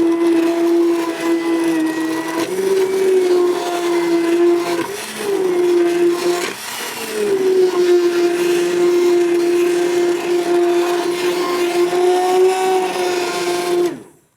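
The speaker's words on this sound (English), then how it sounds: "I'm gonna blend mine pretty smoothly because I want it just all incorporated" A blender runs continuously for about fourteen seconds, pureeing roasted broccoli and garlic soup with a loud, steady motor whine that dips briefly as the load shifts, then cuts off at the end.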